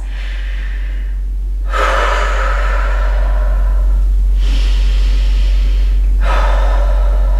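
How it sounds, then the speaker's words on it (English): A person takes a couple of slow, deep breaths while preparing for a warm-up stretching workout: three loud, close breaths separated by short pauses, over a constant low hum. "So I'll take a couple of deep breaths."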